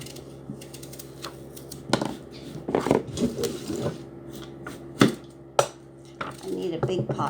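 A knife cuts a large pumpkin into pieces, making irregular woody chops and thuds against a board, close by, with faint background noise and no clear speech.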